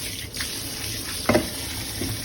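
Tap water runs steadily into a sink during rinsing, a soft continuous trickle with a few brief splashes and knocks.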